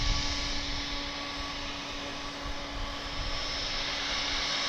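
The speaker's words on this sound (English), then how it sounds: "It's an Airbus A319. It's 17 years old. It's going to Denver, Colorado." A 17-year-old Airbus A319 bound for Denver approaches an airport, its steady engine roar filling the air at moderate loudness with a constant hum and no voices.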